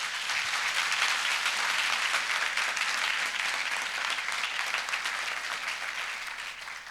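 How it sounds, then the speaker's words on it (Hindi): Church congregation applauding together at a worship gathering, a dense, steady wash of clapping from many hands that holds loud for the full length and tapers only slightly at the end. "आइए प्रभु के लिए अच्छी ताली बजाएंगे।"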